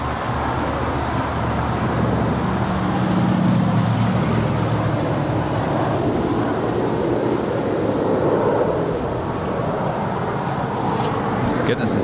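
An El Al Boeing 787-9 Dreamliner taxiing at LAX gives off a loud, continuous broadband jet roar that stays fairly steady throughout.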